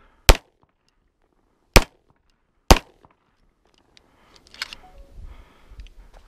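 Three sharp, loud Daniel Defense H9 pistol shots firing Federal HST rounds, spaced about 1.3 seconds apart, followed by quieter shuffling and handling noise.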